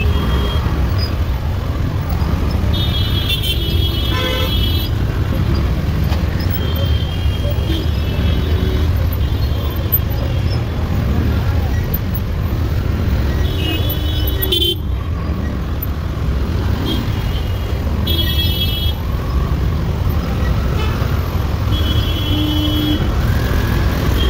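Heavy road traffic in a jam caused by a broken-down vehicle, a constant close rumble of engines with a few short horn blasts sounding at intervals.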